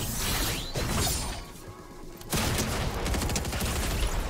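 Rapid bursts of gunfire ring out in a Fortnite match, dense mechanical cracking with a short lull in the middle before the shooting resumes, loud and continuous with no talking.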